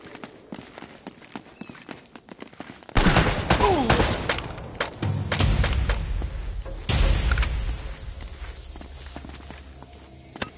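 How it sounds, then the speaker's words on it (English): Gunfire in Uncharted 1 Remastered, bursts of rapid shots cracking over a busy game scene with footsteps and thuds, loud and close, with no talk. "Seem to be getting shot at."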